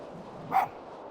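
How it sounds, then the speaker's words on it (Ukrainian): In the video game Spirit of the North, a fox gives a single short, soft bark, clear against quiet ambient background. "Впевнено, що лисиці гавкають"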